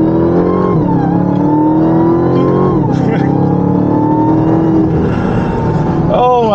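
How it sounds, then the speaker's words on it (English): Supercharged Dodge Challenger Hellcat V8 revving and downshifting close by, a steady loud engine roar with whining supercharger pitch sweeps rising and falling, with a person talking over it. "That freaking supercharger is so crisp."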